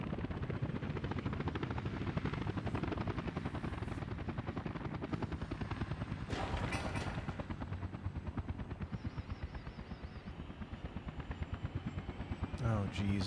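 Helicopters flying in the Workers and Resources video game give a steady, loud rotor chop that fills the whole stretch, with a brief whoosh midway and other game machinery clatter layered in.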